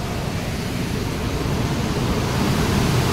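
Water pours out through an open gate of the Sukha Nala dam barrage in Dongargaon, Rajnandgaon, a steady, loud, broadband rushing roar with no pauses, heard close by and alone.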